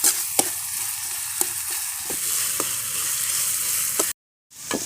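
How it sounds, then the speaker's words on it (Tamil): Tomatoes with salt sautéing in a pan, a loud steady sizzle broken by regular scraping stirs of a spoon, then a brief gap of silence before the frying resumes. "கொஞ்சம் உப்பு சேர்த்து நல்லா தக்காளி வதக்க விட்டுடலாங்க நல்லா பேஸ்ட்டாக நல்லா வதக்கி விட்டுடலாம்"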